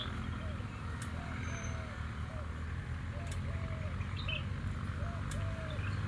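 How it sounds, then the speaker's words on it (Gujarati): House sparrows flock in to be fed grain, giving repeated short chirps and a few soft coo-like calls over a steady outdoor background hum. "જુઓ બધા ઉડી ઉડીને બધા ચકલા જ આવે છે."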